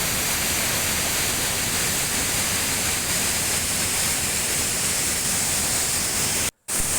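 Steady, loud broadband roar of Urulikkund waterfall in Kannur, continuous rushing water with no talk, briefly cutting out near the end.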